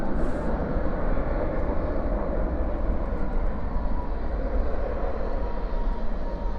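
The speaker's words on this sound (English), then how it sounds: "777 lit up flight 80 headed to London Heathrow. That one a 777-300." A Boeing 777-300 jet at DFW airport at night gives off a steady, broad engine roar that holds at an even level for the whole stretch, with no voices.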